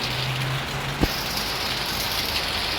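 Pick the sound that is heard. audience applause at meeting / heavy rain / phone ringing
heavy rain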